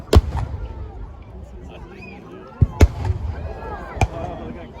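Cannon fire at a 2022 Waterloo battle re-enactment: four or five heavy booms spaced a second or so apart, sharp and loud, over steady crowd murmur and distant voices.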